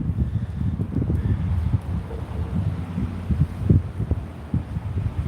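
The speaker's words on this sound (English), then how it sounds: "But this wind is very dangerous that you see today." Strong, dangerous wind blows outdoors on a ranch, low buffeting gusts hitting the microphone in uneven bursts throughout, fairly close and rumbling.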